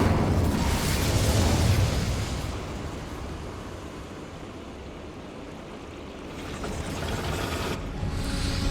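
An Incendio fire spell goes off in Hogwarts Legacy: a loud roaring whoosh of flame at the start that thins into a steady rushing crackle and then swells slightly again near the end.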